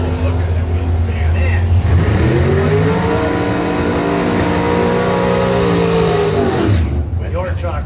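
Drag race cars launching side by side, a Chevy against a Mopar, with wheelspin at the start: loud sustained engine roar rising in pitch as they accelerate away, under continuous excited commentary.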